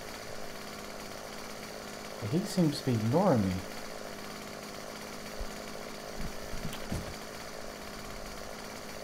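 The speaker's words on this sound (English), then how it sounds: "I'm gonna get this chainsaw out just in case." A chainsaw in the video game 7 Days To Die revs in a short burst of rising, whining pulses, with a few faint later bumps, while someone talks over it.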